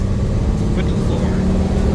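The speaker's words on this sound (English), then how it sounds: "Alright, we're gonna do a high speed acceleration here." A 1948 DeSoto Deluxe with fluid drive accelerates hard with the throttle floored, giving a loud, steady low engine roar close by.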